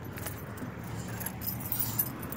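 A bunch of keys jangles and clinks quietly and nearby, in a continuous rattling shake without talk, with faint background noise underneath.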